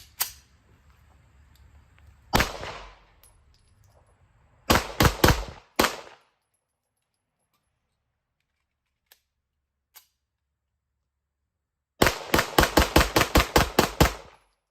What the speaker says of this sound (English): That's 300 rounds with a bare minimum of cooling time between loading up.